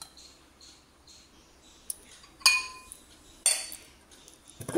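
A pot of pulissery, a South Indian yogurt curry, set onto a kitchen stove, with a few sharp metallic clinks of utensils and vessels spaced over a quiet room.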